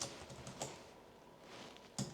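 Quiet typing on a computer keyboard, a few soft scattered key taps over a faint background, with a firmer tap near the end.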